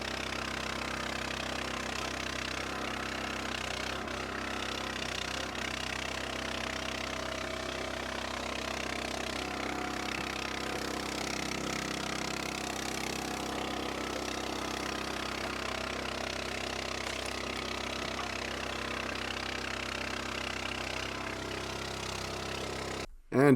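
Engine of a homemade log splitter splitting red and white oak firewood, running at a steady drone throughout with minor shifts in load and faint knocks of wood.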